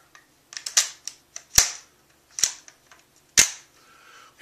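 Metal rifle bolt worked by hand, giving a few sharp, close mechanical clacks and clicks spaced about a second apart, with quieter rattles between them.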